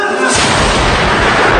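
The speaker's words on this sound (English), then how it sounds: "Luckily, we've got the stun grenades, which they do create a big surprise." Stun grenade going off with a sudden loud bang that erupts after a short quiet moment and rolls on as a dense, sustained roar of blast noise and echo, close and alone.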